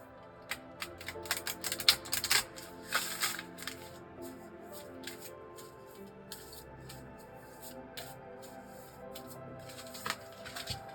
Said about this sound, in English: So we're going to shuffle here